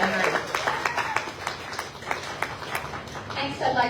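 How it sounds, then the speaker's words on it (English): Crowd at the Cooly Rocks On 2024 pinup pageant applauding a finalist in the Rockabilly category, a scattered, moderately loud run of claps with a speaking voice running over the top. "please give Xena a big round of applause"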